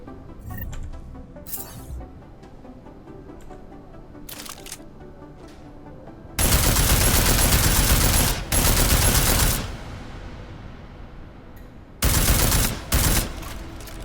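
A combat rifle fires in Deus Ex: Mankind Divided in two loud, rapid automatic bursts, one long and one shorter, separated by quiet stretches with faint mechanical clicks.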